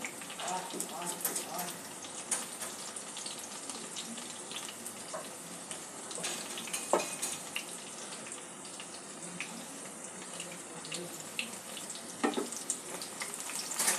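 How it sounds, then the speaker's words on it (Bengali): Eggplant pakoras fry in hot oil, giving a soft, continuous crackling sizzle with scattered small pops, heard quietly and at an even level throughout. "এইভাবে প্রত্যেকটা পকোড়াই আমি ভেজে নেব।"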